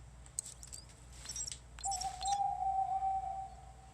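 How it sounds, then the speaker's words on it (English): A short, soft owl hoot sounds as a cue for a solved secret puzzle in The Division 2, a single sustained tonal note following a few faint chirpy blips, quiet and alone. "you should hear a little, I think, a little hoot from the owl once we hit this one"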